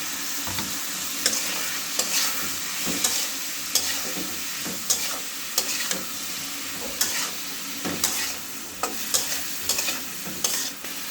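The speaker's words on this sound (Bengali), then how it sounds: "এখানে আমি রসুন কুচি, পেঁয়াজ কুচি, হলুদের গুঁড়া, মরিচের গুঁড়া দিয়ে বেগুনটা ভালোভাবে কষিয়ে নিচ্ছি" Eggplant sautés in a pan with chopped garlic, chopped onion, turmeric and chili powder for a Bengali home-cooked meal. A steady frying sizzle runs under repeated spatula stirs and scrapes that land every second or so, close to the pan, with no talking.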